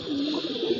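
A pigeon on a rooftop gives one short, close cooing call.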